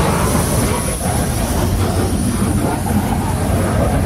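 A CSX freight train of refrigerated boxcars with a grain hopper at the end rolls past an old signal head on a modern mast, giving a steady, loud, continuous rumble of wheels and cars with no pause throughout.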